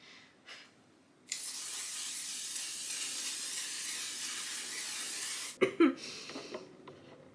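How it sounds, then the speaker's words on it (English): A setting spray used as a makeup fixer is misted onto a face, giving one steady close hiss lasting about four seconds, followed by brief handling rustles and taps; no one speaks. "I like to set my face with this one, which I believe is like a one size setting spray dupe"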